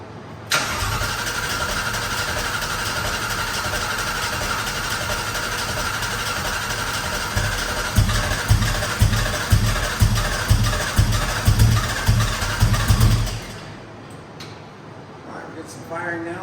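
The engine of a Factory Five Type 65 Coupe, a 1965 Shelby Daytona Coupe replica, cranks and catches on its first start, then runs at a steady idle with rhythmic pulsing toward the end before cutting off; a voice speaks briefly afterward.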